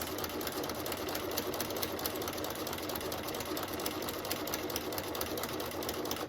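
A sewing machine stitches quilt blocks in a fast, steady needle patter that runs unbroken at moderate volume for several seconds, close by, with no talking.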